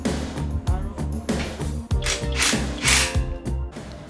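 Ratcheting wrench clicks in steady, repeated bursts as a brake caliper and tie rod are tightened on a Honda Civic Type R, close and fairly loud, with a few metallic taps and no talking.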